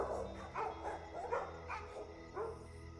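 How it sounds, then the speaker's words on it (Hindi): Several dogs bark at night in a quiet village, a handful of separate barks spaced about half a second apart at moderate distance over a low steady background hum, with no voices. "बस कुछ कुत्तों के भौंकने की आवाज आ रही थी।"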